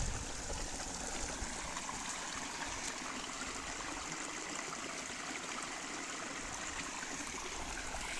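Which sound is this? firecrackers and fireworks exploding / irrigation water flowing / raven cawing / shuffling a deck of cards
irrigation water flowing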